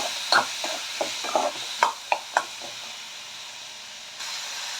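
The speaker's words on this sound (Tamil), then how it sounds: "அதில் தக்காளி போடுறோம்." Chopped tomatoes go into a hot pan for a cauliflower kootu and are stirred, with a run of light scraping and clattering stirs over a steady sizzling hiss. No one speaks.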